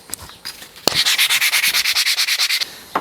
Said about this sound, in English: When you got something this big, you don't really need to be using a tiny bit of sandpaper, but you can.